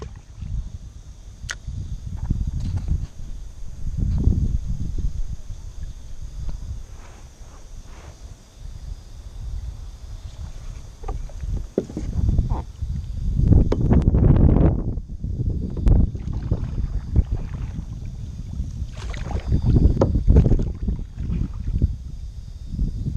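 Orange paddle strokes from a kayak in shallow saltwater at Jervis Bay, with water splashing and dipping in irregular bursts over light wind noise and rustle, close and fairly soft throughout.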